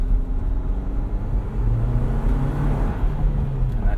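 A 2019 Jeep Wrangler Unlimited Sahara 4-door 4x4 with a turbo engine accelerates on a night drive, a steady low engine drone with a gently rising pitch heard from inside the cabin.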